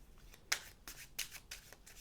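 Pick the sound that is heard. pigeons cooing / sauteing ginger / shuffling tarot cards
shuffling tarot cards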